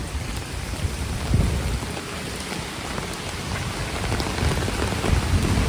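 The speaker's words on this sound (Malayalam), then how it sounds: "മഴയുടെ ഒരു എഫക്റ്റ് എല്ലാം ഇവിടെ കാണാം." Heavy rain pours steadily onto a Nainital street during a festival walk, a dense, continuous hiss of drops hitting surfaces close by, with occasional louder splatters and no voices.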